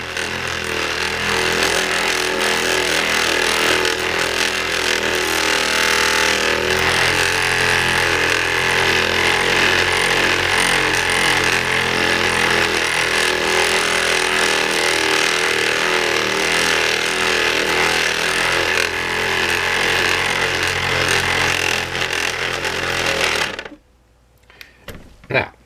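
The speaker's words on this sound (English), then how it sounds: "with these small handheld buffers, you can even do this while the bike is in one piece" A small handheld buffer polishes the clearcoat on a motorcycle, producing a loud, continuous motor whine that drones close up for most of the clip before cutting off near the end.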